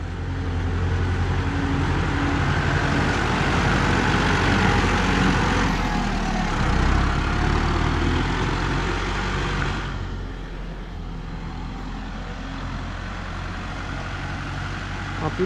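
Low, steady diesel rumble of a Kubota MU5702 tractor pushing gravel, heard close and continuous with a slight dip in load partway through, with no talk.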